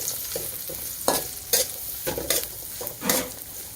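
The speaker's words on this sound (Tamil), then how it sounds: "அடுத்து வெங்காயத்தை போடுறாங்க." Onions and mustard seeds frying in a pan, a steady close sizzle broken by repeated scrapes and stirs of a spoon against the metal.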